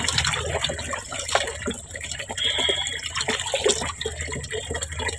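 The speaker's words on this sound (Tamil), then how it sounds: "ஈஸியாக நம்ம இந்த துணியை அலசிக்கலாம்." Clothes being rinsed in a washing tub, continuous sloshing and splashing water close up, with irregular bursts as the fabric is moved and pushed through it.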